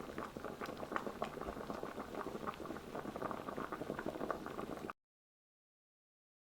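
Millet and sweet potato porridge boiling uncovered in a pot over high heat, a close, busy patter of bubbles popping steadily for several seconds before stopping abruptly.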